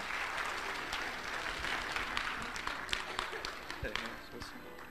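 An audience at a church revival meeting claps in steady applause to welcome a lecturer, a dense wash of hand claps filling the room at moderate distance, with some voices mixed in.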